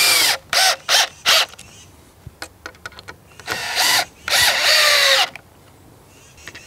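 Power drill driving 2.5-inch screws into sawhorse boards, heard as three short close whirring bursts followed by faint ticks and two longer sustained drives, with no talking.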